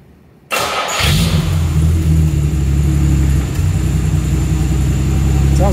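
A Jaguar E-Type fitted with a Tourist Trophy exhaust fires up for the first time: a brief starter whirr, then a loud, steady, deep rumbling idle, close up.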